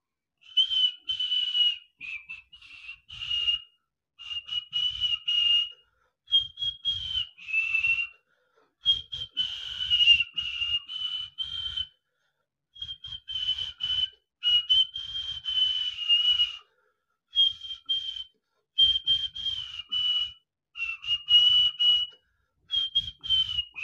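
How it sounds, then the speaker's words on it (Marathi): A man whistles a Hindi song by throat whistling, giving a clear high melodic line in short sung phrases separated by brief pauses, close and alone with no talking. "तर आता थ्रोट व्हिसलचं एक मी उदाहरण आपल्यासमोर सादर करतो"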